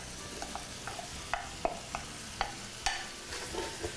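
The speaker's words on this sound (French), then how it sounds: "Je vais rajouter oignon, carotte, ail, céleri d'abord." Onion, carrot, garlic and celery sautéing in a pan for chayote glass noodles, with a low sizzle and repeated clinks and scrapes of a utensil stirring, fairly close and without talk.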